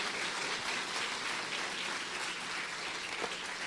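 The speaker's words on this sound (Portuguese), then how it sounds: "Dê uma linda salva de palmas ao Eterno." A church congregation at a Sunday praise and worship service claps together in steady, dense applause that fills the room throughout, loud and continuous with no voices standing out.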